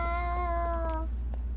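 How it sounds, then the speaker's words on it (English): A Wii remote's small built-in speaker plays a tinny, harmonic meow while Fragile Dreams is being played, one sustained electronic cry lasting about a second over low steady background hum. "The Wii remote is meowing, in case you can't hear it."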